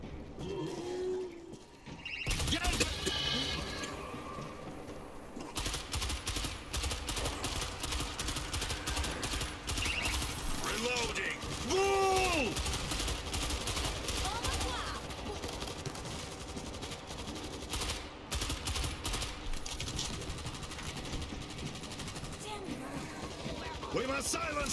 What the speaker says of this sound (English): Machine gun set.